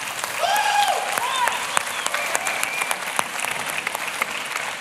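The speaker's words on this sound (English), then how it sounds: "Maybe give one more round of applause for the Jolla guys." Applause from an audience at the SLUSH 2012 event for the Jolla presenters of Sailfish OS: steady, dense clapping that fills the room for several seconds, with some whistling or cheering over it early on.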